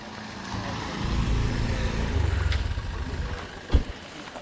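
A 2019 Maruti Swift Dzire pulls away with a low, steady engine rumble that holds and then fades slightly, followed by a brief sharp knock near the end.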